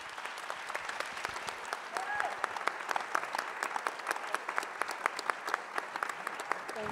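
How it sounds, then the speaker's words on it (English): An audience at an evening forum applauding panelists, sustained dense clapping from a crowd for several seconds, fairly close and even, with a voice briefly audible over it. "please give our panelists a huge round of applause"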